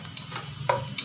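Onions frying in a pan with oil, sizzling softly while a utensil stirs them in a few short scraping bursts, fairly quiet and close, during a fish roe dish being cooked.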